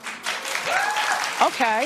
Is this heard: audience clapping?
yes